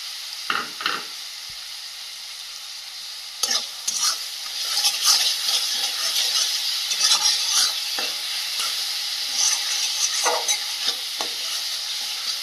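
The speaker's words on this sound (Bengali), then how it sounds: "বেশ ভালোভাবে এটা কষিয়ে নেব। পেঁয়াজের জলে মশলাটা বেশ ভালোভাবে কষিয়ে নেব।" Onions frying in a pan with ginger-garlic paste give a loud continuous sizzle close by, with repeated scraping stirs of a spoon against the pan throughout and a few sharp clinks early on.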